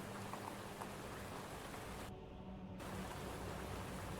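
Gentle rain hisses in a steady, even wash of fine drops, with one brief dip partway through before the soft patter resumes.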